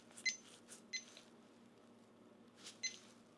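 A handful of short, high electronic beeps sound in two small bursts as a kitchen timer is set for 45 minutes, over a quiet background hum.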